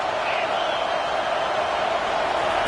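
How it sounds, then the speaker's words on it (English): Football stadium crowd roaring steadily and loudly on a third down, a dense sustained wall of cheering with no pauses. "Decibels rising as the crowd gets behind this defense on 3rd down."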